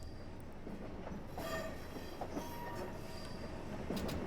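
A New Haven Line M2/M4 electric multiple-unit train pulls away in Train Simulator 2020, a steady low rail rumble with faint clatter and a brief whine building gradually over several seconds, without talk.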